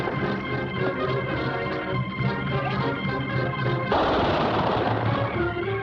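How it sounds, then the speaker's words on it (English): Gunfire in a western shootout, loud and dense throughout against a busy music score, with a sharper burst of shots near the end. "Good shooting, Cisco."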